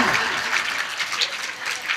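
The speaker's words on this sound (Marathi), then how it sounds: "वाजवा टाळ्या वाजवा" An audience claps together at a Marathi kirtan on Sant Tukaram Beej, a dense, steady patter of many hands with slight swells, filling the room without any voice over it.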